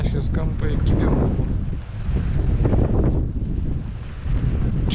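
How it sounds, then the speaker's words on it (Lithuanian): Steady wind buffets the microphone beside a canal during a perch fishing trip, a loud, continuous rumble that swells and dips without letup. "O, vėjas jau iki čia yra, bet neužsėda"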